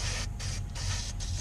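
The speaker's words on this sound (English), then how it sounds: "You can take them to the wire wheel and" A wire wheel whirs steadily while cleaning Honda Civic front brake parts, a continuous close grinding hiss with a few rhythmic dips in intensity as the parts are pressed against it.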